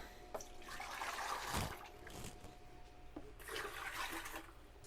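Water gushing and splashing as it is poured into a countertop ice maker, a steady rushing pour in two bursts with a short pause between them.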